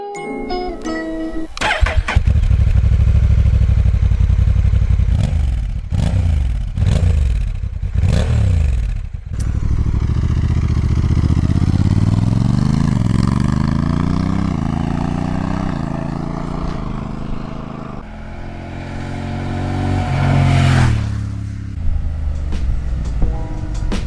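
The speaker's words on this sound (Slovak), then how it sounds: "Nasávanie a výfuk sú vyladené s dôrazom na čo najhladšiu akceleráciu a príjemný zvuk, ktorý znie konkrétne takto." A 2023-2024 Honda NT1100 DCT motorcycle starts and its engine and exhaust rev, several sharp blips followed by a long sweeping climb and fall in pitch, loud and close with no talk.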